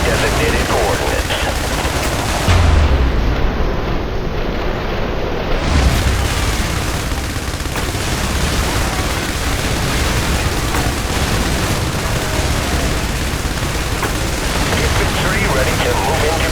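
Airstrike explosions and heavy gunfire in the war game IS Defense at a harbor, a dense continuous roar of blasts and shooting, loud and unbroken throughout, with radio-style voices over it.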